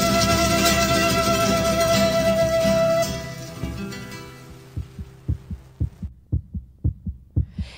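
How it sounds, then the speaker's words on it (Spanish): A heartbeat sound effect emerges as loud music fades, a run of deep, evenly spaced thumps growing clearer toward the end. "¿Pueden escuchar los latidos de mi corazón?"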